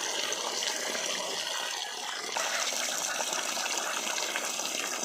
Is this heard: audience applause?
no